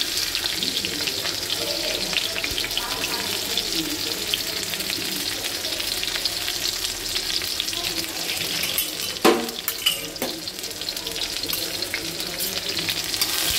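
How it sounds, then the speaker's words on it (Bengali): Chopped onion and chilli fry in hot oil, giving a steady, close sizzling hiss throughout with a few brief clinks of stirring near the middle. "পেঁয়াজটাকে লাল করে ভেজে নেব। দেখো পেঁয়াজগুলো লাল হচ্ছে।"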